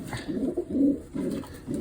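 Pigeons in a breeding loft coo close by in repeated soft, low rolling phrases, about four in a row with brief pauses between.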